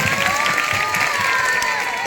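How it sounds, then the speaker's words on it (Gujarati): Schoolchildren applaud their classmates after a primary school comedy play, a steady wash of many small hands clapping with some crowd noise, a few voices and a faint tonal whine running through it. "તાળીઓ પાડો છોકરાઓના માટે."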